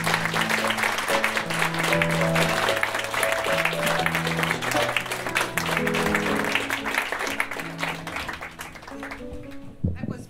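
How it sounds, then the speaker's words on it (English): Audience applause after a storytelling performance, dense and sustained clapping over a musical backdrop, fading near the end. "Belinda Lopez, another round of applause"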